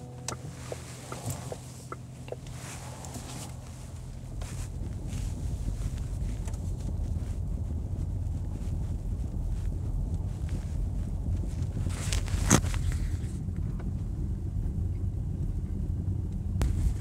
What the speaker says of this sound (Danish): Jeg tænker mig at køre ca. 15 km/t ned over de her meget ujævne brosten